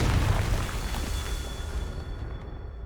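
A Confringo fire spell exploding in Hogwarts Legacy: a loud, close, rumbling burst that fills the opening and then decays into a long, noisy roar, with no speech.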